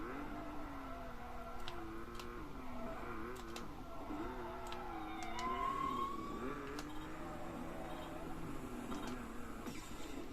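A police siren wails in the racing video game Need for Speed Nitro, its warbling tone rising and falling over a steady engine and game noise, fairly faint and continuous through the stretch.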